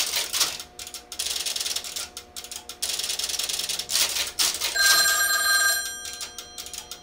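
A telephone bell on an extension wired to an OKI AC125A crossbar PBX rings in a short bright burst near the end, over constant clattering and ratcheting of the crossbar switching mechanism.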